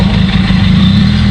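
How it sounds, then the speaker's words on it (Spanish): A car approaching on a town street in Santa Fe, Colombia, its engine a steady loud low rumble that holds throughout, close by and alone without talk. "Ahí viene el carro, ¿no?"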